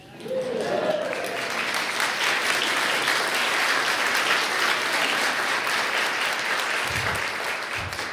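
A church congregation claps warmly after a praise song, dense and loud steady applause that fills the room from start to finish, with a voice briefly heard over it.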